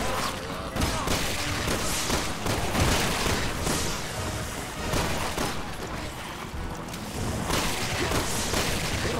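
Dense, continuous gunfire from a single pistol in the video game Resident Evil 6, loud and rapid shots layered over game effects and background sound.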